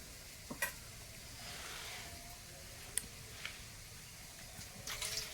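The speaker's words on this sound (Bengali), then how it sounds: "বড়া ওদিকে এখনো ভাজা হচ্ছে" Fried fritters (bora) sizzling in a pan in a home kitchen, a low steady crackle of oil with a few faint ticks and clinks of a utensil, quiet and without talk.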